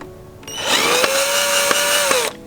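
Power drill boring into the rear bumper of a Nissan 370Z during a diffuser install, a loud steady whine rising at spin-up, running about two seconds with brief bumps as it bites, then cutting off.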